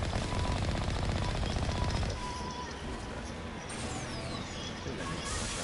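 A rapid-firing gun in Mass Effect Legendary Edition lets off a dense, loud burst of shots for about two seconds, then cuts to quieter background noise with a few faint sweeps.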